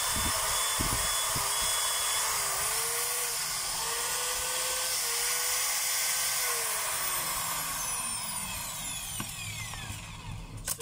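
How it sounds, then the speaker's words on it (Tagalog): A DeWalt DWD024 hammer drill, fitted with a new spindle and bearing housing, whines steadily in plain drill mode with no hammering. The high motor tone is loud and close, runs continuously and alone, with a slight pitch dip partway through. "Ito yung sa drill."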